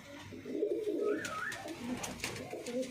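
Pigeons of a prized show line coo in a soft, low, rolling pattern, fairly close and continuous over a quiet outdoor background, with a higher chirp or two mixed in.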